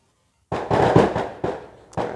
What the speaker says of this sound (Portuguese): do nada, os rojão, hein?